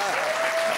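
Loud, continuous crowd clapping at a live French comedy show, a brief dense burst with a faint voice riding over it.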